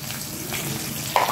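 Steady frying sizzle of four green chillies in hot oil sprinkled with salt, with a brief louder crackle near the end; no one speaks.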